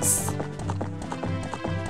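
Horse hooves clip-clop at a steady trot in a Zelda video game, near and even-paced, with game music playing underneath.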